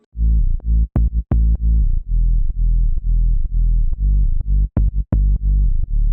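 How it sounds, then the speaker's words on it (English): A punchy, distorted transient-heavy sub bass for a melodic deep house track plays a syncopated pattern of short and sustained notes, each with a sharp clicky attack, loud and alone. "Add a transient heavy sub."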